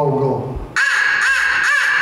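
A crow call being blown, imitating a crow, gives three loud, harsh caws in a steady rhythm after a brief stretch of talk, each caw rising and falling.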